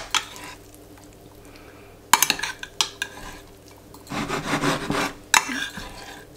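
Cooked celeriac being stirred in a baking dish for a gratin, with scraping and clinking of a utensil against the dish in short bursts, separated by quieter stretches.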